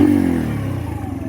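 A Keeway RKV 125 motorcycle engine revs briefly and loudly, then winds down into a rough, throbbing idle.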